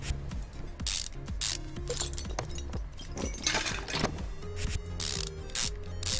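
Car parts being bolted down in Car Mechanic Simulator 2015, with rapid ratcheting wrench clicks in repeated bursts, mechanical clunks and short hissing sprays, close and loud, with no talk.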